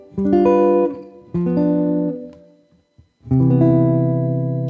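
Guitar chord melody: three chords are struck one after another, each ringing and decaying, with a short silent gap before the last, loudest chord sustains.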